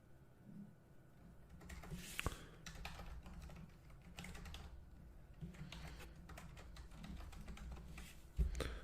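A password is typed on a computer keyboard at a desk, giving a quiet, steady patter of soft key taps with a few slightly louder clicks, and no voices.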